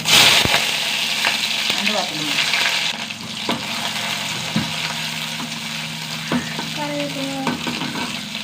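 Shallots frying in hot oil after mustard seeds sizzle steadily while a utensil stirs and clinks against the pan; a voice speaks briefly over the cooking.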